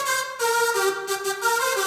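A Serum synthesizer layer of a drum and bass lead plays alone, a bright, harmonically dense buzzing tone with a short melodic phrase and slight pulsing brightness.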